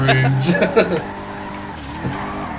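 A BMW drifts in GTA 5, its engine droning under a voice while short tire squeals and skids flare up near the start and fade to a steady engine hum.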